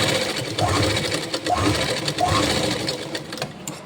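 A sewing machine runs steadily for several seconds, putting a press stitch into pant fabric, its close, continuous whirring rising and falling slightly with the pace of stitching.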